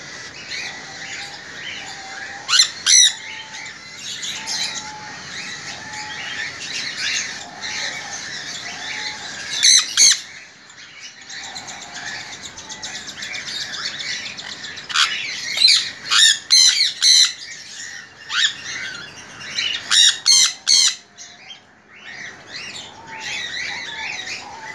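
A pair of sun conures near their breeding box giving piercing, shrill squawks in sporadic bursts, with a quick cluster of calls later on, close and loud over quieter chirping between.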